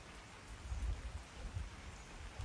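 Steady rain falls outdoors, a dense, even hiss with a low rumbling undertone that swells and eases slightly throughout, with no voices.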